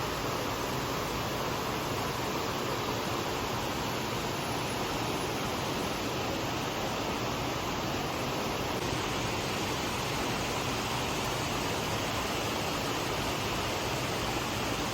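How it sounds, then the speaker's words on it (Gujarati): Heavy monsoon rain pours steadily in a residential neighbourhood in Surat, a dense, continuous broadband hiss that stays loud and unbroken throughout with no voices. "કેવો વરસાદ જામ્યો છે."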